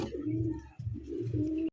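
Large pigeons coo in low, throaty rolling calls, two phrases close by with a short break between, in a pigeon loft.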